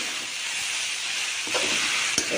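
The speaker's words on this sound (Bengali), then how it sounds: "এর মধ্যে আমি আদা, ধনে, জিরে সব রকম গুঁড়ো দিয়ে বাঁধাকপিটা ভালো করে কষাচ্ছি।" Cabbage sautés with ginger, coriander and cumin powder in a pan, giving a steady, close sizzle with a couple of brief scraping stirs near the end.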